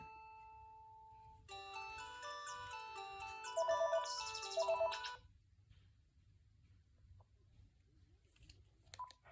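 A Panasonic K-TG4021 cordless telephone rings with a bright electronic ringtone. A short burst of melodic tones plays alone and close in a quiet room, then fades to near silence.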